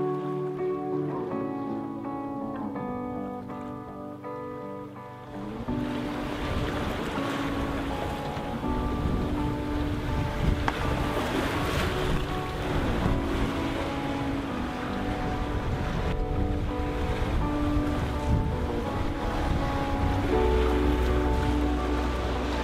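Aboard a sailboat at sea at night, approaching Mindelo, a steady rush of wind and waves washing past the hull fills the scene, following a few seconds of quieter tonal sound.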